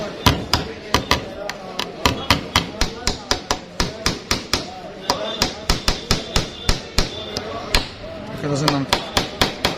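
Hammer driving a nail into wood in a carpentry workshop: a long run of sharp, evenly spaced close strikes, about two or three per second, with people talking briefly underneath.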